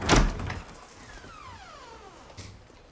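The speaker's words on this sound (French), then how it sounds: "les tapages de porte" A door bangs shut with a heavy, sharp thud, and a fainter knock follows. A drawn-out creak or scrape runs between the two impacts, with no talking.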